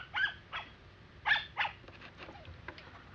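A dog barks in short bursts, about six or seven sharp yaps spaced unevenly over a few seconds, fairly close and clear with no talk, in a scene from the Japanese film Otoko wa Tsurai yo: Torajirō to Tonosama.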